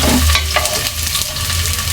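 Garlic and ginger fry in a pan, giving a loud, close, continuous sizzle while a utensil scrapes and stirs with brief clanks.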